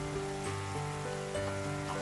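Korean LA galbi beef ribs frying in a pan over low heat, a soft, even sizzle crackling steadily and close up with no voices.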